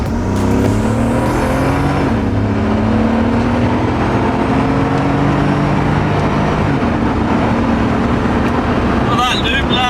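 Mercedes G63 AMG engine roaring loudly and steadily while driving, its pitch climbing and dropping through gear shifts, with faint voices underneath.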